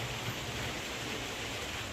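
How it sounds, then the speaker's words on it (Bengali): Heavy rain pours steadily during a thunderstorm with lightning at night, a dense, even hiss of falling water that fills the whole moment without a break, with no voices over it. "এ বাবা জোর বৃষ্টি এসে গেল বেশ ভালোই জোরে এসে গেল"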